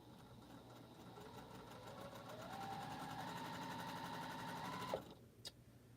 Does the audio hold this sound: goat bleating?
no